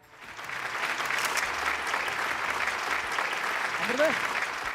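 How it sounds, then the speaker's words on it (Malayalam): Studio audience applause on the Malayalam TV game show Super Bumper, a steady dense wash of clapping that swells in and holds for several seconds, with a brief faint tonal sweep near the end. "പുണ്യാലക്ഷ്മിക്ക് സി കേരളം സൂപ്പർ ബമ്പറിന്റെ നല്ലൊരു സമ്മാനം കൈയടിക്ക്"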